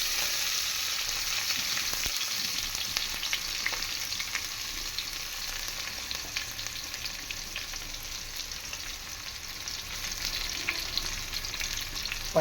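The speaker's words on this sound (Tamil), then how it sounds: "நல்லா பொரிஞ்சு வர நம்ம கட் பண்ணி வச்ச வெங்காயத்தை போட்டுக்கலாம்." Chopped onions fry with fennel and cumin in hot oil for drumstick biryani, a continuous crackling sizzle that holds steady and close throughout with no voices.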